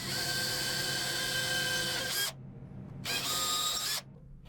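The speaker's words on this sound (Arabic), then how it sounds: "الاول هنعمل ثقوب بالشنيور" A power drill bores holes in a square piece of wood, a loud high whine running steadily, stopping briefly, then running again before cutting off.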